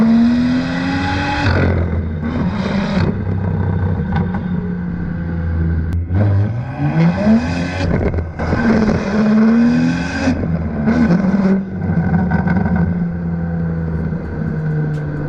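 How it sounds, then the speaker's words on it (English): The exhaust of a BMW M2 (F87) with the N55 engine revs repeatedly, rising and falling through several loud bursts with a deep rumbling idle between, close and continuous. "listen to all the different modes that you can have with this exhaust"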